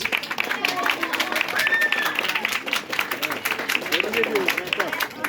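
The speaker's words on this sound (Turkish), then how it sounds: "bir alkış." An audience applauds steadily at a children's painting competition award ceremony held by Canik Municipality in Samsun, as a prize winner is announced, with a presenter's voice over the clapping.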